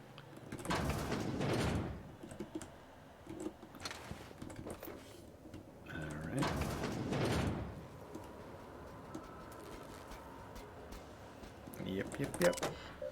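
A sliding door opens in The Outer Worlds video game, a mechanical whoosh and clunk standing out amid game ambience and talk from a player.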